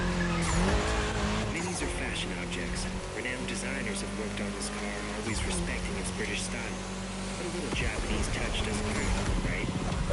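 Car sliding with tires skidding in the racing video game The Crew Motorfest, a steady loud engine and scrub of tires running throughout, with a person talking over it.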